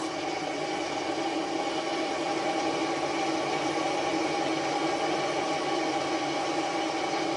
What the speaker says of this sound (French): Donc là, je vais faire mes essais moteurs.